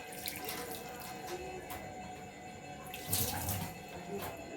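Water is poured or run into a pan of oysters and chili powder being cooked, making a splashing, trickling flow with clinks of utensils, a louder burst near the end.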